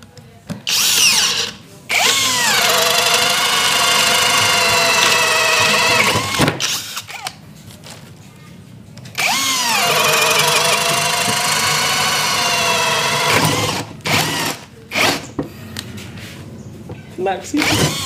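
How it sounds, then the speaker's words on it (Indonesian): Cordless brushless drill boring with a 25 mm spade bit in drill mode at speed setting 2, two long loud whining runs with a brief pause between, then short bursts near the end. "berikutnya kita akan menggunakan mata bor kipas ukurannya 25 mm di mode drilling dan percepatan nomor 2."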